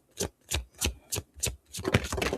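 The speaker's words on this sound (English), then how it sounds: "that's the only shuffle I'm doing. The only dealing I'm doing." A deck of playing cards is shuffled and dealt at close range: five quick riffling bursts at an even pace, then a denser run of card flicks, with no talk.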